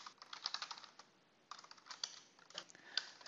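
Code being typed on a computer keyboard, a quiet, close sequence of quick clicky keystrokes in short runs with brief pauses between bursts.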